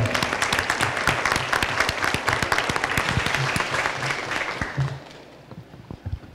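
Applause from an audience at a municipal forum opening session, as a proposed amendment is approved by acclamation: dense, steady clapping for about five seconds, then tapering to a few scattered claps.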